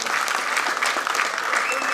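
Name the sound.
applause at a film press meet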